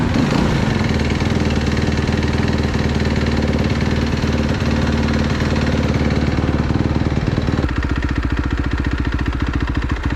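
A four-stroke dirt bike engine idles steadily and loudly up close, with an even rapid putter that smooths slightly near the end, and no voices.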